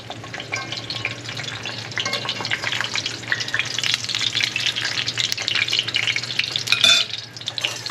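A taco shell frying in hot oil, a steady close sizzle and crackle with continuous bubbling spatter that swells slightly near the end, no voices.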